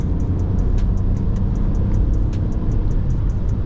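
A Mini Countryman with a 136-horsepower engine is driven in sport mode, giving a steady, low engine and road drone inside the cabin with faint, evenly spaced ticking above it.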